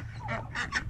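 A duck on a farm gives a quick run of nasal honking quacks, close and fairly soft, with no talk.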